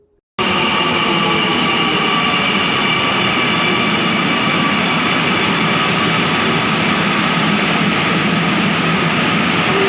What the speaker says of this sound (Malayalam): അങ്ങനെ നേരെ നമ്മൾ മെട്രോ സ്റ്റേഷനിലോട്ട് വന്നു.